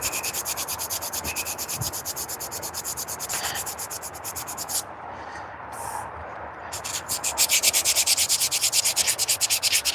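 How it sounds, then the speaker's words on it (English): Steady rhythmic back-and-forth sanding with 400 grit automotive sandpaper, continuous close scratchy strokes that pause briefly midway and then resume with a faster, louder rhythm. "this sandpaper I'm using here. This one's just a 400 grit, but it's automotive sandpaper"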